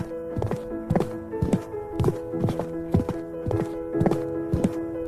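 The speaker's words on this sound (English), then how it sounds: "One day a prince was riding on his horse through the same mountain area to hunt." Horse hooves clip-clop in a steady rhythmic gait as a rider crosses mountain terrain, with close, clear hoofbeats repeating evenly under a faint tonal background.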